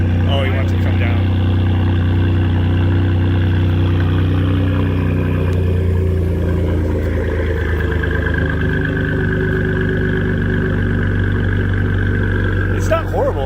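A Ford 3.5 EcoBoost engine fitted with an SPD high-flow turbo exhaust adapter and 3-inch downpipes rumbles loudly close by. Its steady low idle drones throughout while people talk over it.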